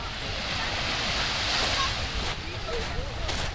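Sea waves roll onto a pebble beach at a Turkish resort as a steady, moderately faint surf wash, mixed with wind buffeting the microphone.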